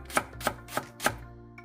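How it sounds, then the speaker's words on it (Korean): A knife slices a green onion stalk diagonally on a board: four evenly spaced, crisp chops close by, followed by a faint tap, with no voices. "대파 반대를 어슷 썰어주세요"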